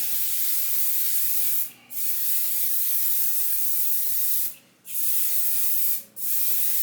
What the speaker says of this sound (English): I am going to spray this spray adhesive